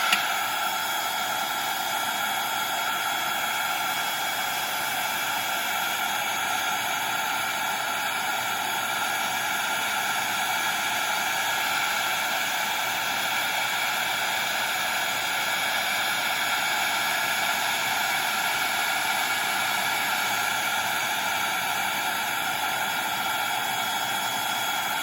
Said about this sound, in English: So I'm just going to get my heat tool and I'm going to give it about 10 to 15